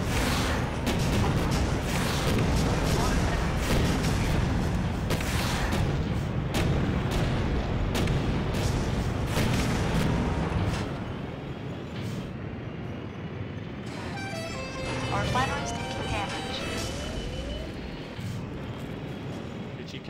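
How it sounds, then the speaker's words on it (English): Heavy cannon blasts boom repeatedly across a snowy battlefield in the Empires Source mod game, loud and rolling for about ten seconds before easing, followed by quieter game sounds and radio-like voice chatter. "Cannon,"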